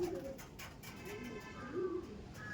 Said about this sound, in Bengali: এটা হচ্ছে মেল পায়রা